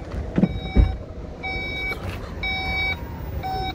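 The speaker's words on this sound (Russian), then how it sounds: "Багажник открывается тихо" Power tailgate of a Volkswagen Touareg opening quietly: a few soft thumps at first, then evenly spaced electronic beeps repeating over a low, steady mechanical hum, close by.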